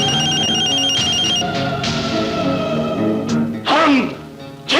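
A telephone rings in repeated electronic bursts in a scene from a Pakistani Urdu film, loud and close, with music and other sounds around it and a sharp swell near the end.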